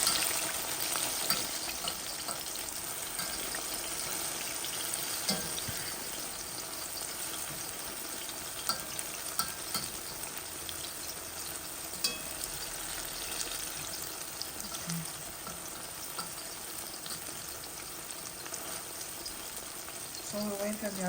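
Plantain frying in oil in a pan, a steady close sizzle and crackle running throughout with occasional faint clinks, with no talking over it.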